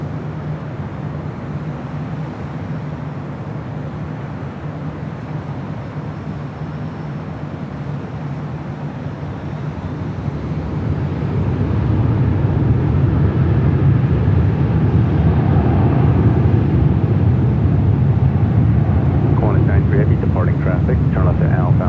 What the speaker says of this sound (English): Lufthansa 451 heavy, clear for takeoff, runway 24 left